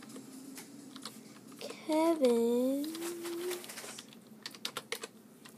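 Computer keyboard keys clack in short bursts while text is typed onto a sign in the video game Minecraft, mixed with a voice speaking that includes a drawn-out, sliding vocal sound partway through.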